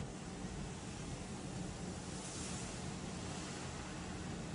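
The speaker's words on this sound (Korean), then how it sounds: "지금 밖에 저기 태풍 소리." Typhoon wind and storm raging outside, a steady broadband roar heard from indoors, constant and fairly faint with no voices.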